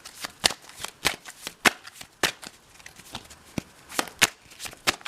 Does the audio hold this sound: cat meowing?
no